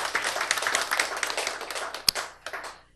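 An audience at a gathering gives a congratulatory round of applause: dense, lively clapping that carries on, then thins out with a few last claps before stopping.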